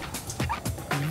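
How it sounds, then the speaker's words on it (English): Dog barks from the action shooter game Blue Estate, a few short yelping bursts in quick succession, fairly close and loud over a game soundtrack. "I hear a dog."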